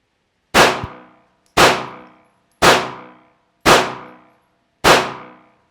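Five loud, sharp live-fire gunshots at a shooting range, evenly spaced about one second apart, each a close crack with a short ringing tail, and no talking in between.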